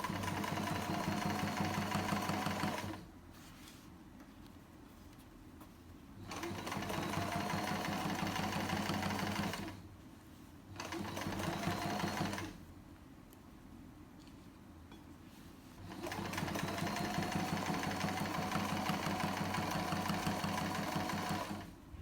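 A sewing machine stitches fabric for chair pouches in several sustained runs of fast, steady mechanical whirring, broken by quieter pauses between bursts, close and clear with no talking.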